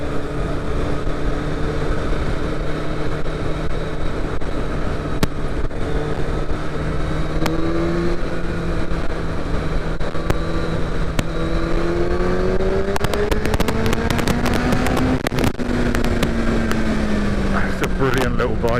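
Steady engine roar and wind rush from a Yamaha Thundercat motorcycle at speed, loud and continuous with pitch rising and falling as it accelerates.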